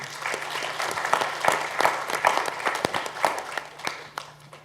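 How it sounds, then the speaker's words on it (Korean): An audience at a research institute talk concert bursts into sustained applause, many hands clapping at once in a dense, steady patter that carries on for several seconds. "우리 조슈 교수에게 박수 한번 보내주십시오, 여러분."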